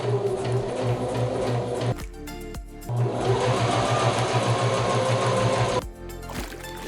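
A sewing machine stitches close to a seam on a garment made from McCall's pattern 8327, running in steady rapid bursts with a short pause near two seconds and a stop near six seconds.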